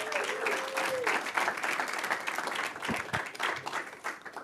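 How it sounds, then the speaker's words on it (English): An audience at an AI gathering at Google New York City applauds steadily throughout, a dense wash of clapping with a few brief vocal sounds near the start. "Let's give them a huge round of applause."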